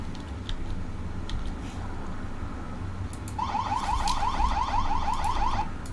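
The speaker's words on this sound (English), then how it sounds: "That sounds like the police getting close to arriving." A police siren in the emergency-services game Emergency 4 with a Lisbon mod, starting faint and then a rapid warbling wail that grows louder as it approaches.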